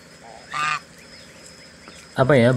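Bengal geese, a kept ornamental fowl, give two honking calls close by. The first is brief and moderate, and the second, after a pause, is longer and louder.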